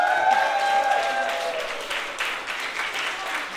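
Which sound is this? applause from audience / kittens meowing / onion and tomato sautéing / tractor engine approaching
applause from audience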